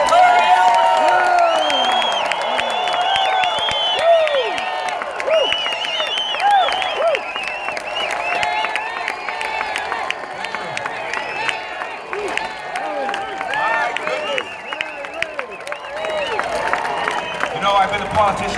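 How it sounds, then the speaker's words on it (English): A rally crowd in Santa Barbara applauds, cheers and whoops for California gubernatorial candidate Larry Elder, a loud, dense roar of clapping and shouting voices sustained from start to finish with no break. "let's give a warm, a loud applause for the next governor for the state of California, Larry Elder"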